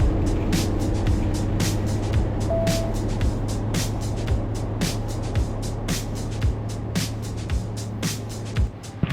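A Freedom Fox light aircraft engine drones steadily on a runway during takeoff, a constant loud buzzing hum with rhythmic ticking pulses, no talking over it.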